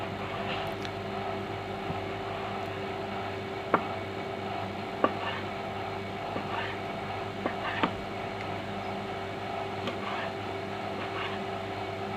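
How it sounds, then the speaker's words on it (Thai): A few sparse knife taps on a cutting board while chopping squid sound at irregular intervals over a steady background hum, fairly faint and unhurried. "หั่นไปได้หลายแบบนะคะ"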